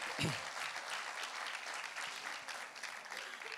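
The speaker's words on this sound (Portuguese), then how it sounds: "Dá uma salva de palmas a Jesus" A church conference congregation gives a round of applause, a dense, continuous wash of clapping with a brief low thump near the start, steady throughout.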